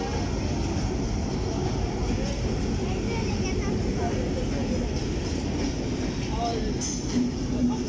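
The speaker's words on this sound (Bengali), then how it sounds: "rail station" A train rumbles at a busy railway station in Bangladesh with a dense, steady roar of wheels and carriages throughout, nearby and loud, with crowd noise mixed in.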